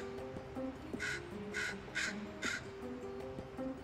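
A young crow's tentative scold: four short, harsh caws spaced about half a second apart, fairly close and clear above a steady low background hum.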